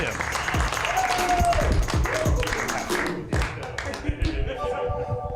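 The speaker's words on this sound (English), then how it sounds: "One more big round of applause for Daryl Moon" Applause from a comedy club audience for a stand-up comedian, clapping and crowd noise mixed with a host's voice and a few cheers, fairly loud and uneven over a few seconds.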